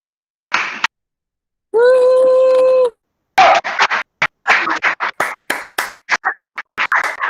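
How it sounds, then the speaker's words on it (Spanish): A small audience applauds at a university thesis defense. After a sustained tone, scattered, uneven hand claps break out close by and continue in irregular bursts. "Vamos a brindarle un aplauso a los chicos"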